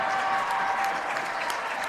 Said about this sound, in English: the Grace faithful fired up here on the near side